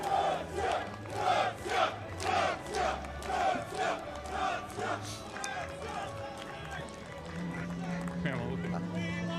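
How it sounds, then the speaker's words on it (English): Football supporters roar and chant in rhythmic surges at a stadium during an Australia Cup Round of 16 match between Melbourne Knights and Campbelltown City, a steady loud crowd with voices close by. "A great crowd too, making plenty of noise."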